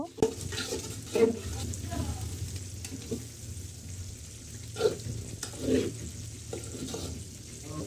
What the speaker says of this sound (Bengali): ডিম ভালো মতো নাড়াচাড়া করে রাইসটা অ্যাড করে দিব